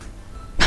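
An elderly man gives a single short, sharp cough at the very end after a near-silent stretch.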